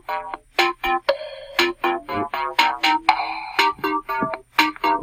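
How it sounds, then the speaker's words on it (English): Bright electronic music plays from a web-based learning website, a lively sequence of short melodic notes repeating in a bouncy rhythm, clear and fairly loud, with no talk over it. "music's pretty neat, huh?"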